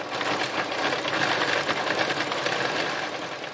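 Sewing machine stitching free machine embroidery, a fast, steady rapid-fire needle chatter running continuously and loud with no pauses.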